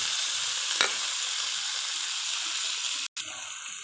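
Vegetables for pinakbet sizzle in a hot pan, a dense, steady hiss broken by a brief clink near the start and a short cutoff near the end.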